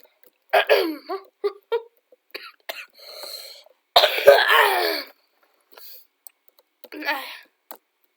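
Several harsh, close coughs in short bursts, one long rough fit in the middle, with breathy throat sounds and brief gaps between.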